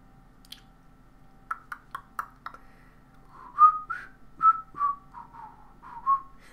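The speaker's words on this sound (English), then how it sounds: "I've noticed that when I whistle, it messes with the frequencies on this microphone" A person whistles a short, faint tune of separate soft notes, preceded by light clicks, with no talking.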